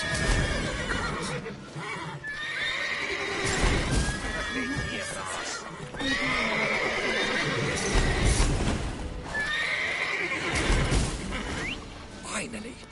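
Horse whinnies ring out several times over busy game noise and clattering hooves in The Witcher 3 video game, with a voice talking intermittently throughout.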